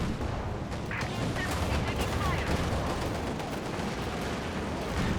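Dense battlefield gunfire from Company of Heroes 2, with rapid overlapping shots and machine-gun bursts forming a continuous loud fusillade, mixed with heavier artillery thumps throughout.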